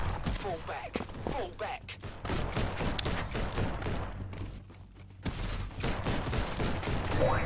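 Defensive turrets in the survival base-building game Outpost Zero fire in rapid bursts, dense crackling volleys that run almost continuously with a brief lull, while someone talks over the gunfire.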